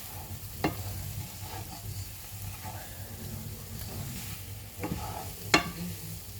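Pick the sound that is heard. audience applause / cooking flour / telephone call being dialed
cooking flour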